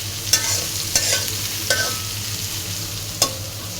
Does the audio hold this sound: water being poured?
no